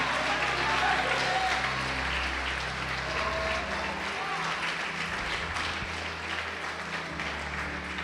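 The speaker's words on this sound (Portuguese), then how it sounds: "Pode aplaudir e glorificar." Congregation applauding during a Lord's Supper church service, steady dense applause filling the room with a continuous wash of hands, loud and sustained, with music or voices faintly underneath.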